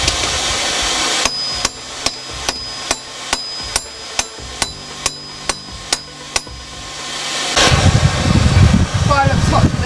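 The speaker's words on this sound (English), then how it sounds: "I'll get the slightly bigger hammer." A hammer forges a steel shortsword on an anvil, striking about a dozen sharp, ringing blows at a steady rhythm over a low hum of the fire, then giving way to louder roaring noise.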